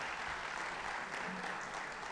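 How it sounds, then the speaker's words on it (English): Audience at the B-Sides Ahmedabad security conference closing session applauding, a steady even wash of clapping held at a constant level for the whole stretch, fairly soft and slightly distant. "So give yourself a round of applause just for making it so far."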